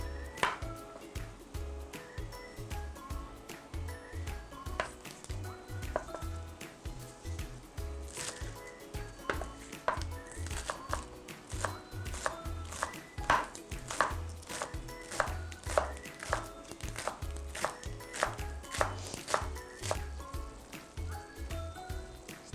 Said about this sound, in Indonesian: kita potong daun bawangnya dulu